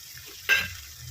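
Cauliflower, potato and peas stirred into cooked spice masala in a pan give a sudden short sizzle midway, which fades into a low crackle over a quiet background.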